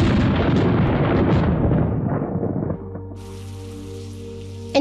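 Steady rain sound effect in a Filipino horror audio drama, a dense wash of falling rain that dominates for nearly three seconds, then drops away to a quiet, low background with a faint hiss.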